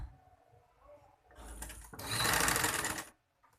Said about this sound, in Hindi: इस तरह से पाइपिंग को अंदर रखना है और सिलाई बिल्कुल निशान के ऊपर लगानी है।